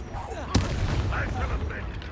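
A Confringo blasting spell goes off in the Hogwarts Legacy video game, a single sharp, explosive crack standing out early against a steady, rumbling wash of battle sounds that continues afterward.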